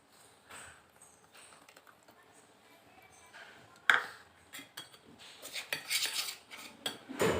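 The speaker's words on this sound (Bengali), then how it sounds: "এই পেস্টটা দিয়েই এই মিশ্রণটা তৈরি করব" A spoon clinks and scrapes against a metal bowl while a stuffing mixture is worked together with mustard paste, quiet at first, then a sharp ping and a run of louder, irregular clattering strokes.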